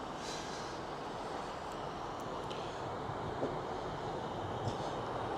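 A train runs at Brighouse station, bound for Halifax, giving a steady, moderately quiet rumble and rolling hiss with faint metallic squeaks throughout, with no talking.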